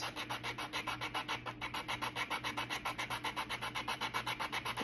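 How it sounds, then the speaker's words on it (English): Sandpaper rubs back and forth across the back of a wooden craft piece for an interchangeable vintage truck, an even rasping stroke repeating about five times per second, close and steady with no talk. "I want you to sand the back, and I just do it like this."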